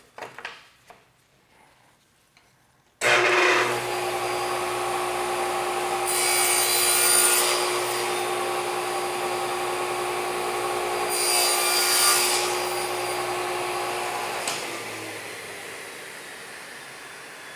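After a few quiet knocks, a table saw with a sled spins up loudly and holds a steady whine, swelling twice into brighter rasping cuts through wood before the blade drops in pitch and winds down.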